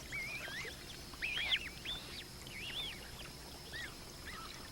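Magpie geese and goslings call in the wild, a loose series of nasal, rising honks and shorter yelps scattered over a quiet background, moderately faint and at some distance.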